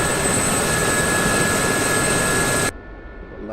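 A steady, loud helicopter engine and rotor drone from the DCS flight simulator game holds evenly for several seconds, then cuts off abruptly to a quieter hum.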